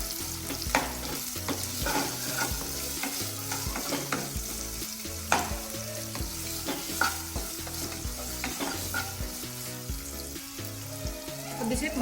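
Onions and green chillies fry in a pan with a steady, close sizzle, broken by repeated scrapes and clinks of stirring throughout.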